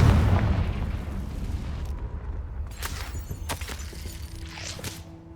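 A Confringo blasting spell detonates in Hogwarts Legacy, a loud booming burst at the start that decays into a rumbling tail, followed by scattered fainter crackles and pops.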